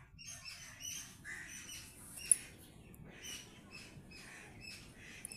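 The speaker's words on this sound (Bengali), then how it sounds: "পাখি আওয়াজ করছে, বুঝতে পারছো না কোথায় আওয়াজ করছে?" Bird calling nearby in a home garden, faint repeated squeaky chirps and squawks over low background noise, with one brief sharp click.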